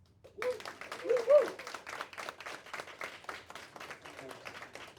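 Audience applause at a youth power event honoring local government candidates, steady clapping from a modest crowd with a brief voice or cheer near the start, continuing evenly to the end.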